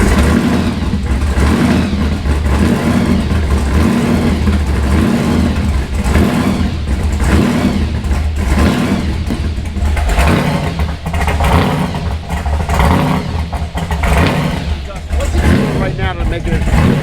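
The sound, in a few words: Ford Mustang GT500 engine starting and running on E85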